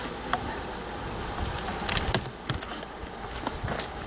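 Honey bees in an open hive colony make a dense, steady buzz that fills the whole stretch, with a few individual bees flying close past.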